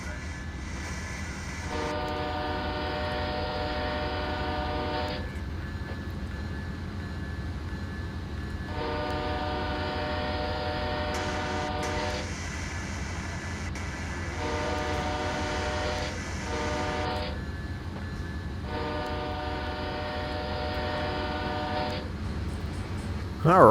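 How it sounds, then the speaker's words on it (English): A CSX locomotive horn in Train Simulator 2020 sounds at a grade crossing in a long-long-short-long pattern of loud sustained blasts over a steady rumble of the moving train, with no talking. "we are coming up on a crossing here, so I'm going to shut up and let you guys listen to the horn"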